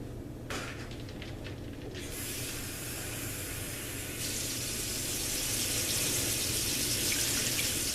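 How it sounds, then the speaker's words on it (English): Six cups of water poured into a pot of apple pie filling with cornstarch and cinnamon, a steady rushing splash that grows fuller and louder as it goes. "And we're going to add in 6 cups of water."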